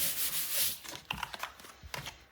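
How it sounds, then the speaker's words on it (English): Paper laid on album board is rubbed down by hand, giving soft, close scratchy strokes: a long sweeping rub, then a run of shorter brisk passes, quiet and with no talking. "Now we're going to turn this over. And we're going to burnish this all."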